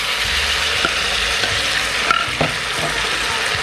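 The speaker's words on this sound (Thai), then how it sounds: "ผักเริ่มสุกแล้วแม่ใส่น้ำซอสลงไปเลยค่ะ" Vegetables with dried chilli stir-fry in a hot pan as sauce is added, producing a loud, steady sizzle with occasional scrapes and clacks of the spatula, no talking.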